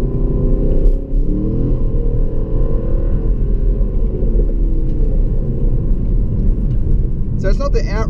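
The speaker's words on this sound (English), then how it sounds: "that's third gear, and it's just pulling through, just chugging through without any stress" A 2016 Holden Calais V Sportwagon's LS3 V8 pulling at full throttle in third gear, a deep steady rumble heard from inside the cabin with someone talking over it.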